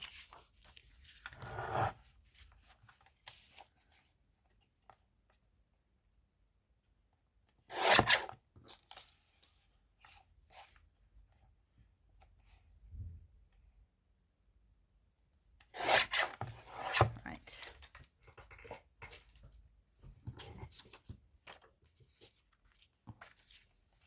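A pencil scratches and rubs across the back of a piece of cardboard in short, quiet bursts separated by near-silent pauses, close up and alone.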